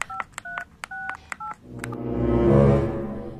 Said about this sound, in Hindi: घर में फोन कर देता हूँ